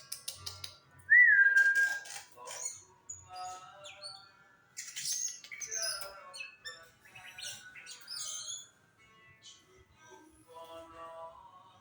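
A green leafbird (cucak hijau) sings close by in bright whistles, chirps and squawky phrases, with brief pauses between bursts.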